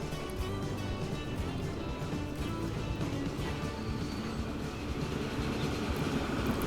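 Passenger train passing in the Transport Fever 2 game: a steady, dense rumble of rolling rail wheels and carriages, moderately loud and continuous throughout, with no speech.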